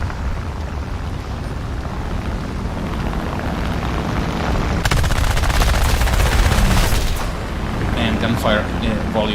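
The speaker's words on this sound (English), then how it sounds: "And gunfire volume is too loud." Loud, dense rapid gunfire rattles from War Thunder over a steady rumbling background, with a burst of automatic fire in the middle and voices underneath.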